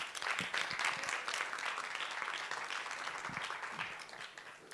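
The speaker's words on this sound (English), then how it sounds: "Another round of applause, please." Audience applause filling a room after a speaker thanks the crowd, dense continuous clapping at moderate distance that fades slightly toward the end.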